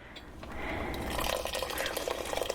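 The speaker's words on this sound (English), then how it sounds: "so we need to add more water." Water poured into a thick green chili stew in a pot, a steady splashing, gurgling flow that builds and continues for a couple of seconds, close by in a home kitchen.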